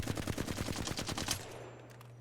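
Rapid automatic gunfire in Apex Legends, a fast regular burst of shots lasting over a second and then cutting off, leaving a low steady hum behind.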